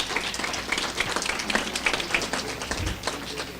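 Audience applause at a plenary session of a gender statistics conference, honouring the first Peruvian expert on the CEDAW committee: steady, moderately loud clapping from a crowd with crisp individual claps, continuous throughout.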